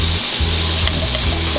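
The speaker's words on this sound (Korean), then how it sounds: "새우는 스위트 칠리 베이스로 볶아줄게요" Shrimp stir-frying in a pan with sweet chili sauce makes a loud, steady close sizzle with a low rumbling hum underneath, continuous throughout and with no talking.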